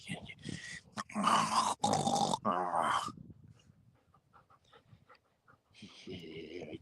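Dog panting and grunting in short bursts, close by, with a quiet gap in the middle and a person's voice in places.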